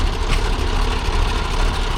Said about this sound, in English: Here's a fire engine